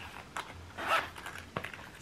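A gold zipper on a red-lined Louis Vuitton wallet compartment is pulled open in short ratcheting bursts, close and fairly quiet, with a brief pause between strokes and no talking.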